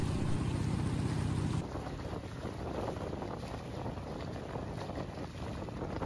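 Boat motoring across a river in Laos on the return leg of an excursion, a steady broadband rush of water and hull noise with wind buffeting the microphone, loud and continuous after an abrupt shift in the first seconds.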